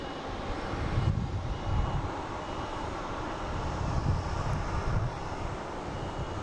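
An American Embraer E175 airliner arriving from JFK at Boston Logan airport, heard as a broad, moderately distant jet engine rumble and hiss with some wind noise, swelling gently and holding steady.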